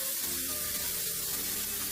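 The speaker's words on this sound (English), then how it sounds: "Quickly pour the received water into the pot." Water pours steadily into a cooking pot with a rushing, splashing wash that stays close and fairly loud throughout, with no voices.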